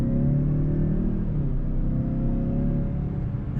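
A 2019 Mazda CX-5 Grand Touring Reserve with a 2.5-liter turbocharged four-cylinder accelerates, giving a steady, moderately loud engine drone that builds gradually with no talking.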